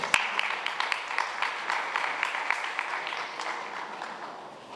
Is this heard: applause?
yes